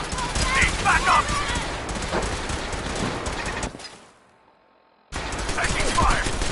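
Combat gunfire in the video game Fallout 4, a loud, busy stretch of overlapping shots and impacts with voiced callouts mixed in, then a brief near-silent gap before the firing resumes.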